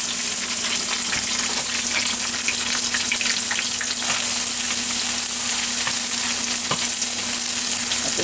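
Yellow and orange bell peppers with garlic stir-fry in a hot pan, a loud steady sizzle and crackle with scraping stirs throughout, no voices.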